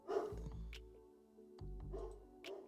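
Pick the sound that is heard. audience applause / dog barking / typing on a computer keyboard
dog barking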